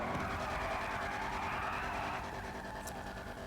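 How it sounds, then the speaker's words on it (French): A car in GTA 5 Online spins its tires on a gas trail to try to ignite it, giving a steady, loud engine roar and tire skid that runs unbroken and eases slightly toward the end. "on a testé s'il était possible d'allumer du gaz avec ses pneus"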